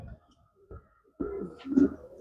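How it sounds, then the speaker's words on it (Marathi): A year-old racer pigeon cooing close by in a loft: a few soft, low murmurs, then a fuller throaty coo rising in a quick burst. "हे जुटलंय. मस्त कबूतर आहे."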